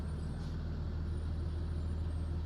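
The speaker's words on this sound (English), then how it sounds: "Excuse the potentially loud truck outside." Heavy truck idling or passing outside, a constant low engine drone with a faint high hiss, steady and moderately loud, with no one speaking.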